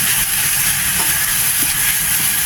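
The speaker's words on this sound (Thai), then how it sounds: "ผัดหมูให้สุกค่ะ" Pork stir-fries in a pan for spaghetti sauce, producing a loud, steady hiss of sizzling oil with faint stirring knocks underneath.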